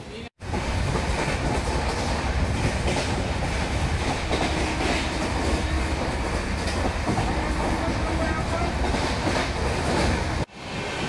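An express train between Mumbai and Kevadia, India, rumbles steadily along the rails with a continuous clattering roar, loud and close, broken briefly by short drops at the start and end.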